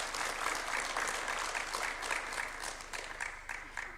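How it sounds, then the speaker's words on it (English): Steady, fairly faint audience clapping at a ceremony at State House, Nairobi, many hands in a continuous even patter that tapers slightly toward the end. "A louder clap than that. I think it's worth a good clap."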